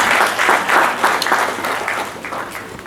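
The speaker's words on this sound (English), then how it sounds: "A round of applause for him." An audience at an international management and entrepreneurship conference applauds a dignitary at the high table, a steady wash of many hands clapping at close range that holds for the whole stretch without a break.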